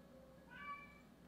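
A pet cat meows once in a soft, rising call, fairly faint against quiet room noise, pleading to be fed.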